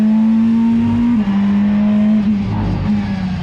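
A race car at a Barcelona round holds full throttle with a loud, steady high engine drone, then the pitch drops in steps as it brakes into a corner, heard up close without talk.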